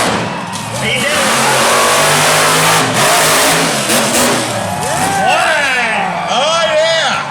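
Monster trucks at a Tuff Trax event in Raleigh roar and rev hard as they climb over a row of cars, with engine pitch rising and falling under loud commentary.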